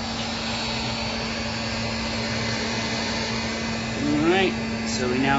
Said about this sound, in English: I'm going to go ahead and turn off the heat gun